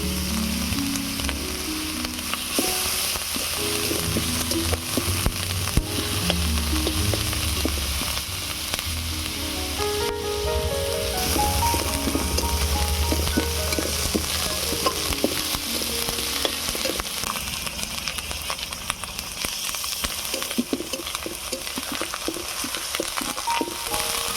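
Ginger-garlic paste with onion paste and garam masala frying in a pan for soybean kosha, a loud continuous sizzle with repeated stirring scrapes and clinks throughout, close by and without talk.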